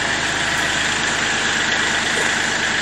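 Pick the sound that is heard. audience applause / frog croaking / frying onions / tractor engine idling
tractor engine idling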